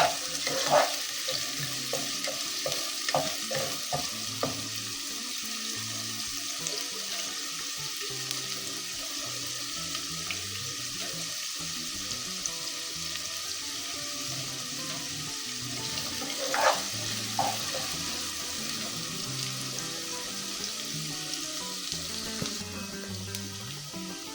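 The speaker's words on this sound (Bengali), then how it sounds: "আমি একটু নেড়ে চেড়ে লাল করে নিচ্ছি।" Chopped onions fry in a pan as the base for a whole-garlic beef curry, a steady close sizzle with intermittent stirring scrapes and spoon knocks across the clip; no talking.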